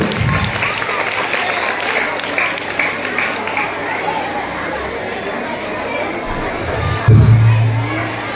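Schoolchildren at a government high school Children's Day celebration applaud loudly and continuously, a dense crowd clapping mixed with young voices, with a louder burst near the end.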